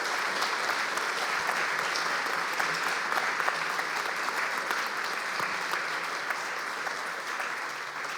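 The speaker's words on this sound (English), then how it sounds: "Let's give them a round of applause." An audience applauds the panelists at the close of a quantum research discussion evening in Munich, steady dense clapping from a full room that holds at an even level for several seconds.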